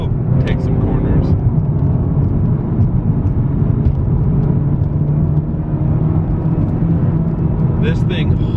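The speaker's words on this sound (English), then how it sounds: "you put your foot in it and it just hooks out of corners" A 2019 Honda Civic Type R in Sonic Grey Pearl pulls hard out of corners, its engine note droning steadily and loudly throughout with road roar beneath and brief bursts of talk from inside the cabin.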